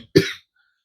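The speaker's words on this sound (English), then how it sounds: "I get in this studio and I start coughing" A single short, close cough bursts out sharply in a studio, followed by silence.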